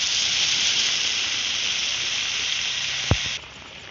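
Water hits a hot pan of mustard paste and green chillies in a fish-and-eggplant dish, giving a loud, steady sizzle that dies down slightly near the end after a brief clink.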